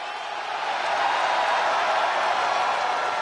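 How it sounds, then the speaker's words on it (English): A wrestling arena crowd on its feet during a Thursday SmackDown event, a steady wall of loud cheering and roar that swells after the first second and holds evenly. "The crowd on their feet."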